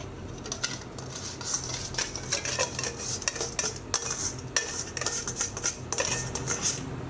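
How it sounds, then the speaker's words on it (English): A spoon clinks and scrapes steadily against a bowl while marinade ingredients for Persian lamb chenjeh kebab are mixed together. The taps are quick and irregular, close and fairly quiet, with no talk. "Now we just want to mix this together and get it well combined."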